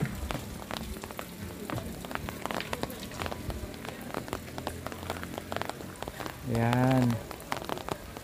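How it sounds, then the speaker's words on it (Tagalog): Light drizzle falls outdoors at a new stone tourist spot in Baguio, Philippines, a soft steady patter of raindrops on surfaces throughout, with scattered talk and a brief louder tonal sound near the end. "Aambon."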